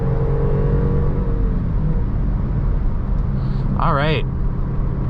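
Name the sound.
2016 Range Rover Sport HSE accelerating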